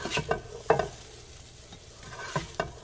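Moose sausage cooks in a frying pan with a soft steady sizzle, broken by several sharp clinks and scrapes of a utensil stirring and breaking up the meat; no one speaks.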